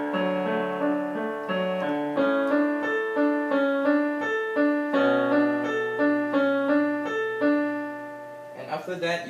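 Piano repeating a three-note right-hand figure, first over a left-hand A, then over a left-hand B, several even cycles ringing clearly and close before a brief voice at the end.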